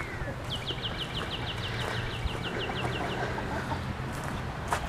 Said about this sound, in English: You can see the chickens out